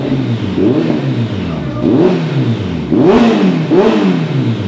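A Kawasaki ZX14R motorcycle fitted with a new exhaust pipe revs repeatedly and loudly up close. The engine note rises and falls in several throttle blips over a steady idle.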